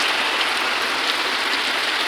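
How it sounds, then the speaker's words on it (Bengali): Steady rain pours down at night outside a home, a dense, even hiss of drops on surfaces that holds constant and fairly loud throughout, with no voices. "কেমন লাগে বৃষ্টি।"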